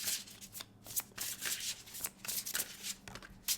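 Oracle cards shuffled for a tarot reading, a crisp run of riffling and flicking card strokes in quick irregular bursts, close and alone with no talk.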